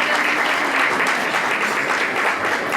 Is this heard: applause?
yes